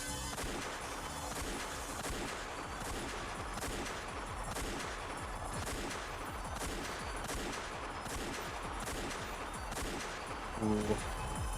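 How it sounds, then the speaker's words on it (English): Rapid gunfire crackles without pause in the video game Umineko When They Cry, dense repeated shots and bursts blending into a constant battle din, with a brief louder burst near the end. "As soon as I heard the sound of repeating gunfire"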